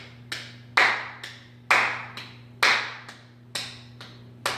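Hands clap a steady rhythm for a music lesson, sharp, close claps in an even pulse with alternating louder and softer hits, each ringing briefly in a quiet room over a low electrical hum.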